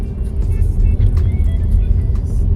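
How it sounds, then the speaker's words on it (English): Heavy incoming Easter road traffic on the Amalfi Coast near Positano: a steady, loud low rumble of passing cars without a break. "This on the other side is the incoming Easter traffic for the Amalfi Coast."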